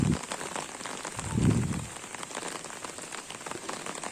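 Steady, dense rain pours down over a green village of tile-roofed houses during a week of nonstop monsoon downpour, a constant close hiss with a couple of low thuds near the start.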